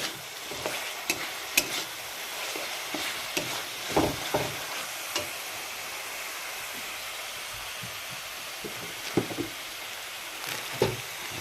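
Ginger-garlic spice paste sizzles in hot oil while a spoon stirs it, with a continuous hiss broken by frequent scraping knocks against the pan, close by and moderately loud.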